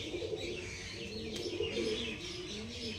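Pigeons coo continuously close by, soft throaty rolling calls overlapping one another with a few faint chirps and no talking.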